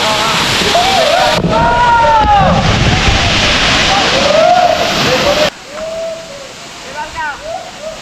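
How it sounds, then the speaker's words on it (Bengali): A waterfall at Sitakunda, Bangladesh roars loud and steady while people talk over it, then the rushing cuts off abruptly and quieter talking continues. "এটা হচ্ছে কিন্তু দুই নম্বর ঝর্ণা"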